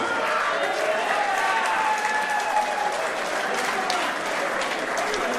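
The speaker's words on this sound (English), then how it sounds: "Big round of applause for both of our fighters" A crowd at an XFC mixed martial arts event applauds the fighters after the main event, steady roaring clapping and cheering filling the arena evenly throughout.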